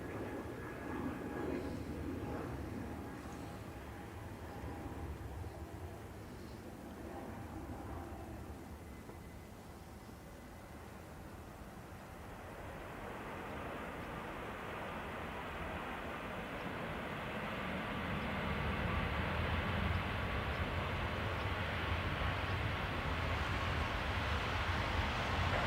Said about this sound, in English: Turkish outbound on the north side.